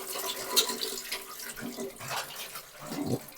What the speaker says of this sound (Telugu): ఇవి బాగా కడిగేసి వంచేసేయాలి.